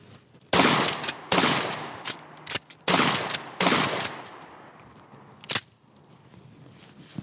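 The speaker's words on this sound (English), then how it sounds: "The shotgun works a hell of a lot better" Shotgun blasts in Red Dead Redemption 2, several loud, sharp booms spaced about a second apart with decaying tails, followed by lighter clicks of the action being worked.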